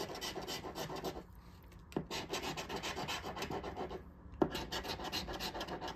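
Coin scratching a Pennsylvania Christmas lottery scratch-off ticket, steady close rasping strokes with two brief pauses and a couple of sharp taps, alone without talk.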